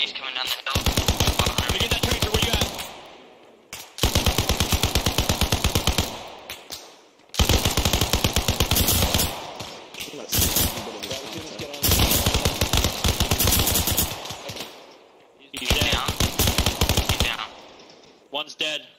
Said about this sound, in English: Where are those shots coming from?